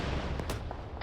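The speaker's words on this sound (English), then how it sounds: "Oh, that's mortar shells." Mortar shells explode in a video game, a short burst of loud, booming blasts with a couple of sharp impacts layered over continuous rumbling battle noise.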